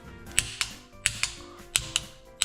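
A torque wrench clicks sharply and repeatedly while oil pan bolts on a bagger motorcycle are tightened, with about eight close, crisp snaps over faint mechanical ratcheting.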